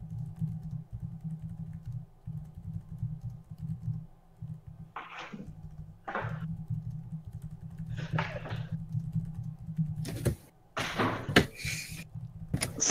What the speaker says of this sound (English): Silent typing.